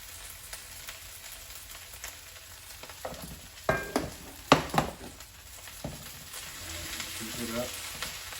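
Fried rice sizzles steadily in a pan as it is stirred and scooped toward the bottom, with a continuous crackling hiss broken by several sharp scraping and clanking strokes of the utensil, close up.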